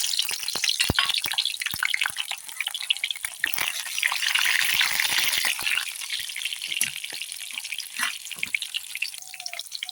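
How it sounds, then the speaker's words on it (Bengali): Onions frying in a pan for a pangas fish and potato curry in a village kitchen, a steady bright hiss of sizzling oil with scattered crackles and pops, fairly loud and close. "এখানে মাছ কষানোর জন্য আমি পেঁয়াজগুলো দিয়ে দিলাম"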